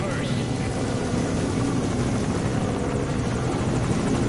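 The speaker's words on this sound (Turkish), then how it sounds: "Yok lan, bizim helikopter ateş ediyor." Helicopter in the video game Metal Gear Solid V: Ground Zeroes, its rotor and engine a steady, loud, dense roar throughout, with possible rapid gunfire folded into the continuous din.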